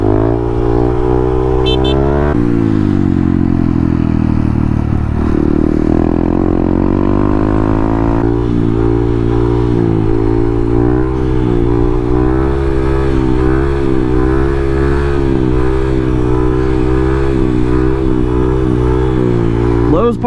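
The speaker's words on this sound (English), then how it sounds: "Lowe's parking lot wheelies." Motorcycle engine revving and rising in pitch through throttle blips, as during wheelies in a Lowe's parking lot, loud and close throughout with a brief horn-like toot early on and speech mixed over it.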